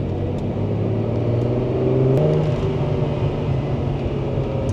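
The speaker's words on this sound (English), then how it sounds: "very stock exhaust from these Testarossas, they don't make as much sound actually" Ferrari Testarossa flat-twelve running through an aftermarket exhaust, revving steadily with a deep droning rumble that swells briefly midway, heard close and without voices.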